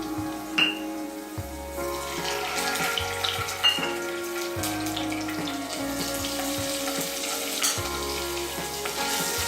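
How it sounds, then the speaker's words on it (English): Ginger garlic paste and turmeric powder being stirred into hot oil with green chilies in a pan, a continuous close sizzle with scraping stirs and faint clinks, steady and moderately loud. "try to mix it properly once again so that the paste is evenly distributed nicely in the oil"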